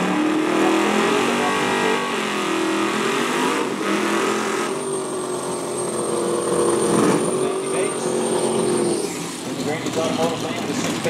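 Street Outlaws cars roar down the Lancaster Dragway in Buffalo, with loud sustained engine drone and rising revs under an announcer's steady commentary.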